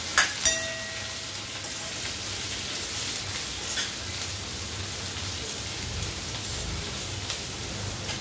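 Sliced onions sautéing in a pan for paneer matka biryani, a steady close sizzle and hiss throughout with a couple of faint clinks near the start.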